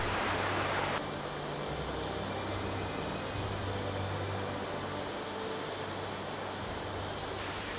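A waterfall in a humid Costa Rican forest pours over a cliff, giving a constant, dense rushing roar with no breaks or voices.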